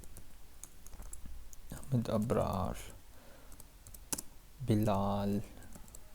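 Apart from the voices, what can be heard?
typing on a computer keyboard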